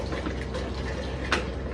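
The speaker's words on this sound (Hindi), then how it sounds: "सबसे पहले पीने वाली पानी उसके अंदर डालेंगे, कनाली के अंदर पानी" Drinking water poured into a pigeon water dish, a steady close splashing fill running throughout with a brief brighter gush near the end.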